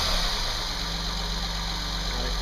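A Honda car engine idles steadily with a power steering pump running, a continuous low hum and rumble throughout with no break.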